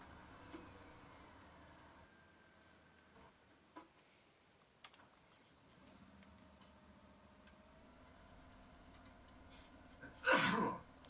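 One short, sharp sneeze comes near the end of a quiet indoor stretch, after faint ticking and scattered small clicks.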